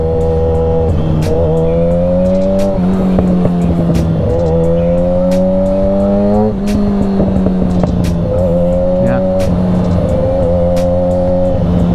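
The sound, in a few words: Yamaha R6 motorcycle engine revving while riding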